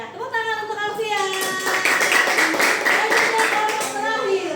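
Children in a classroom clap together for a classmate named Alfian, a steady patter of small hands under an adult's voice and children's talk that continue throughout.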